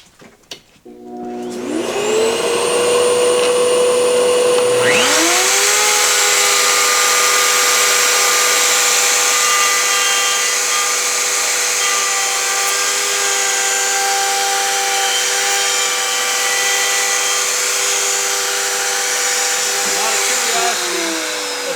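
A router cutting a tenon in wood with a PantoRoute jig spins up with a rising whine, then runs loud and steady for about twenty seconds before winding down.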